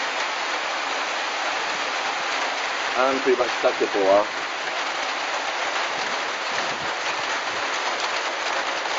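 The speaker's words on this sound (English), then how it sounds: "now it's really pissing down rain." Heavy rain pours down in a dense, constant hiss in the Borneo highlands while someone speaks briefly over it.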